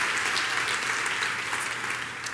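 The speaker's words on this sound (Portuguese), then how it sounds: "Dá uma salva de palmas ao Senhor" A church congregation claps together in sustained, dense applause for a couple of seconds, fairly loud and even, with no speech on top.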